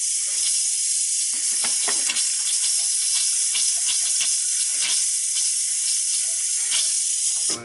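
Water runs steadily from a Delta faucet fitted with a small-style aerator in an oceanside guest cottage being winterized, a loud, continuous hiss with no one talking.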